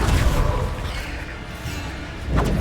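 A Bombarda spell explosion in Hogwarts Legacy lands as a deep booming thud, then rumbles and fades, with a second whooshing impact near the end.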